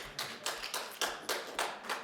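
A few audience members clap slowly at a trade-governance lecture, giving about eight evenly spaced, separate claps over two seconds, fairly faint, with no talking.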